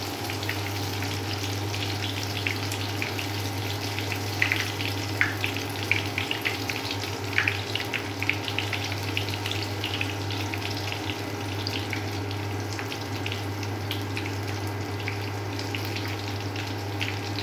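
Mushroom chops sizzle steadily in hot oil, a continuous crackling fry with small popping bursts throughout, close and fairly loud, with no talking.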